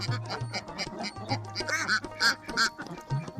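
A BAU duck quacks several times in quick, uneven bursts, loud and close, with other quacks overlapping in the background.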